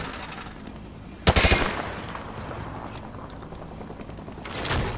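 A rapid burst of automatic rifle fire rings out in a Call of Duty: Modern Warfare 2 training range, shots punching through light cover. The loud, close volley is followed by scattered mechanical clatter and a second, softer burst near the end.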